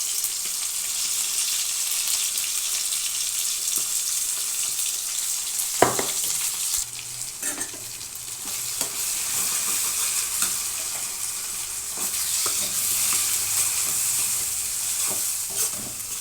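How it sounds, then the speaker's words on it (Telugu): Baby potato gravy curry sizzles loudly in a pan, a dense, continuous hiss broken by occasional sharp knocks and scrapes of a utensil stirring it, close and without talk. "పచ్చివాసన పోయేదాకా ఇలా కలుపుతూ ఎంపుకోవాలండి కొంచెం బాగా"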